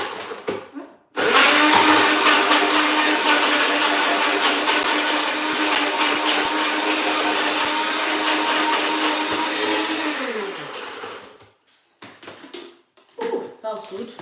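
A kitchen blender whirs loudly and steadily for about nine seconds, blending ginger and onions with a little water, then winds down and stops. Light clatter and handling noises follow.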